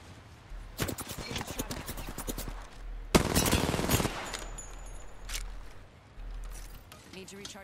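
Gunfire in an Apex Legends style shooter game, with rapid bursts of shots in several clusters, one heavy burst in the middle, set against a constant low game rumble and a voice talking over the action.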